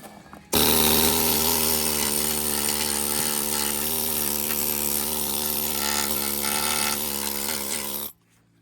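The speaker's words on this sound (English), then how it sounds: "this right here is your best friend. The old needle scaler." Pneumatic needle scaler hammering rust off an old dune buggy's vehicle frame, a loud continuous rattling buzz that starts abruptly, holds steady for about seven seconds and then cuts off.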